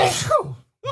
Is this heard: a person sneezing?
yes